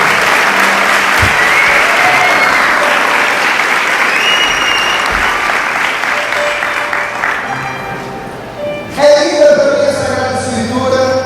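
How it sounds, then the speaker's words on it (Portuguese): A church congregation claps loudly and steadily for the word of God during a Portuguese-language sermon, sustained applause filling the space before thinning near the end as a voice and other sounds come in. "Vamos aplaudir a palavra de Deus com força."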